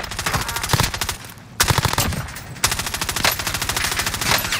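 Rapid automatic gunfire rattles in a video game shooter, dense close bursts with a short pause, then continuous firing again, no voices over it.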